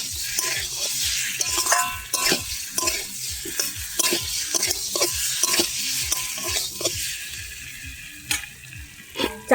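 Fried potatoes and eggs sizzle in spice masala in a pan, close by, as a spatula stirs them in repeated scraping, clinking strokes over a constant frying hiss.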